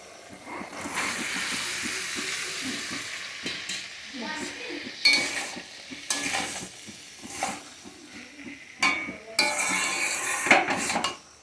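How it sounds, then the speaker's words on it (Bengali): Boiled banana flower goes into a wok, then a metal spatula scrapes and clatters against the pan in irregular bursts over a soft, steady sizzle of frying, close by with no talking. "এবারে মোচা সিদ্ধটা এই কড়াইটার মধ্যে দিয়ে দেবো।"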